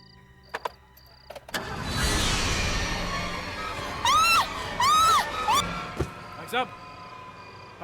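A car engine cranks and starts after a few clicks and a door, then settles into a running rumble, with people talking and shouting nearby over it.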